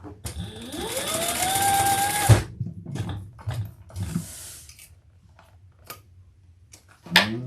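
A sewing machine bastes handbag pieces together in one steady run of about two seconds with a rising whir, then stops, followed by quieter handling noises and a brief burst at the end.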